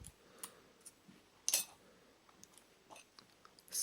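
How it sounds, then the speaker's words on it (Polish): Faint plastic clicks and small snaps as the display frame of a Nokia 6100 mobile phone is pried loose, with one sharper crack midway and lighter ticks scattered around it in a quiet room. "Podwadzamy ramkę wyświetlacza"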